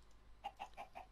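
A chicken in the Minecraft video game clucks four times in a quick, even rhythm, fairly faint and alone.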